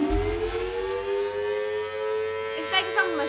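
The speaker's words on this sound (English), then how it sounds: "Here's what a dual tone siren sounds like." A loud dual tone civil defense siren sounds two tones at once, giving a dissonant, eerie sustained wail that rises slightly, with a brief burst of other sound near the end.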